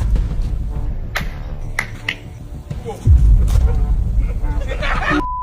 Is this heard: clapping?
yes